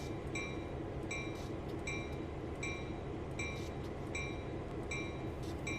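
Train in Train Sim 2020 rolling slowly onto a siding, a steady low rumble of wheels with a regular rhythm of sharp metallic clicks and squeaks from the rails, continuous and fairly close.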